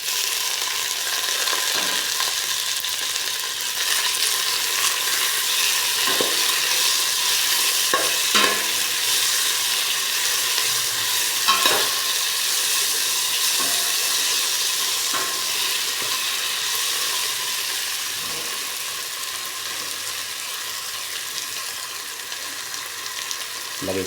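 Tomatoes added to a hot frying pan set off a steady, close frying sizzle that lasts throughout, broken now and then by brief crackles and stirring clicks, and no one talks.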